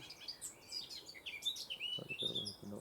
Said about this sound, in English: I think that's like the first black cap I've heard this year.